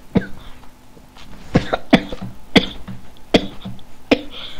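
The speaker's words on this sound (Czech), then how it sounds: "Jestli slyšíte moc ten kašel, tak fakt se moc omlouvám" A person coughs repeatedly, about six sharp, close bursts spread unevenly across a few seconds, some with a rougher throat-clearing quality, with quiet room noise between them.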